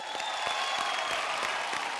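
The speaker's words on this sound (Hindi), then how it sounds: "जोरदार तालियां" Loud, steady applause from a studio audience on a Hindi comedy show, dense clapping that fills the whole stretch with a faint crowd murmur beneath.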